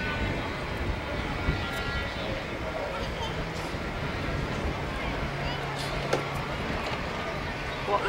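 Steady, loud broadband roar of an airplane flying at the Blue Angels air show in October 1993, continuous throughout with crowd noise and people talking nearby.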